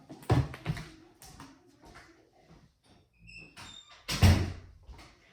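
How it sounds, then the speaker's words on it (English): A couple of soft knocks, then a heavy door thuds shut close by near the end, with quiet room noise between. "Let me shut that door."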